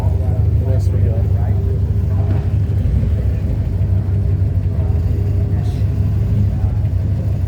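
Mark II Ford Escort rally car with a screaming BDA engine, heard as a steady loud engine rumble at a rally car display, with people talking over it throughout.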